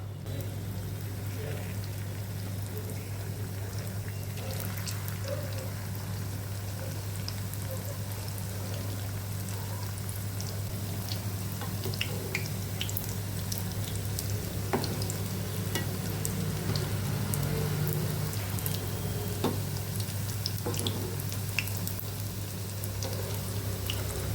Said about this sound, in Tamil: எண்ணெய் கொஞ்சம் நல்லா காஞ்சதும் இந்த சமோசா இதில் போட்டுக்கலாம்